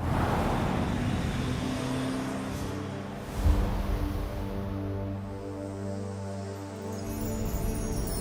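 An electric car drives along the road, a smooth steady cabin rumble with tire and road noise and a brief louder bump midway, with no engine roar.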